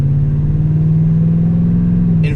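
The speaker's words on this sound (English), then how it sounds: "the down low grunt when" A 2018 Toyota Tundra fitted with a BAmuffler exhaust pulls away in first gear at light throttle, giving a steady, loud, low grunting drone that holds throughout.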